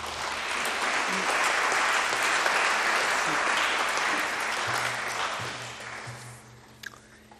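Audience at a conference applauds, a sustained wash of many hands clapping, fairly even for several seconds before fading out near the end.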